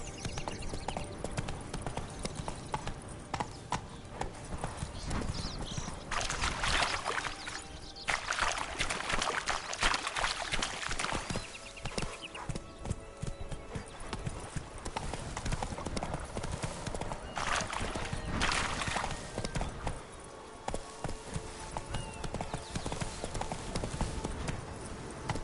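Roach, the horse in The Witcher 3 video game, gallops in a steady rapid clip-clop of hooves that runs throughout over outdoor ambience, with a brief whinny-like sound.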